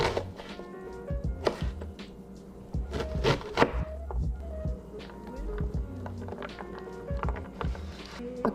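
A knife chops and dices small carrots and onions, including green and red onion, on a cutting board, the sharp taps coming in uneven bursts at close range with faint background noise.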